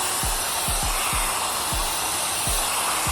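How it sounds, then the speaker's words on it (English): A hot hair dryer blows steadily and loudly, a constant close rushing roar that runs through the whole stretch, with faint low thumps underneath. "Like I'm blow drying with a hot temperature"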